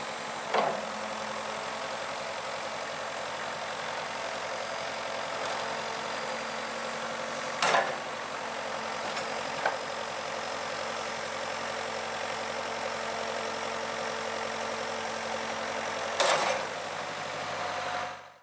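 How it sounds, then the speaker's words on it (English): A steady, droning excavator engine idles and works while its arm rotates a shipping container, with a few sharp metallic knocks standing out over the constant mid-pitched hum. "Paul is going to rotate the container now with his excavator arm into the right"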